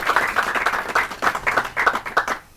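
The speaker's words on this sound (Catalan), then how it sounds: "Podeu aplaudir." Audience applause at a Christmas special afternoon broadcast from the Pilarín Bayés library in Vic: a steady patter of many hands clapping for about two seconds, then quickly fading out.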